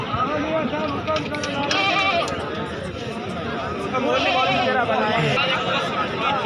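Goats bleat repeatedly amid a dense crowd at a goat market (bakra mandi) in Madrasa, their wavering calls overlapping with constant human chatter and talk throughout.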